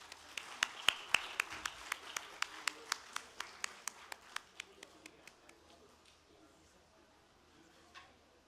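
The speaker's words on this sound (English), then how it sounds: "Please keep the applause coming" Scattered applause at an international conference on resilient infrastructure: a handful of distinct claps ringing out at a steady pace, then thinning and fading into quiet room tone.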